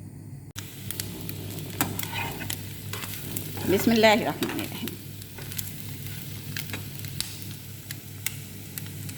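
Beef liver frying in olive oil in a pan, a continuous crackling sizzle with occasional stirring scrapes, close and steady, a voice briefly speaking over it.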